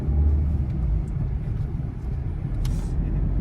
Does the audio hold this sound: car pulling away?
yes